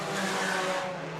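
Sport compact race cars roaring past at Shelby County Speedway, a dense, steady engine drone with tonal whine from several cars at once, moderately loud and brief.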